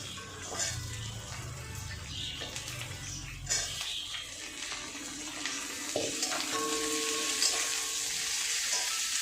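Vegetable stalks and potato added to hot oil with onion crackle into a loud, hissing sizzle that swells as the pieces go in, with clatter of stirring over the steady frying.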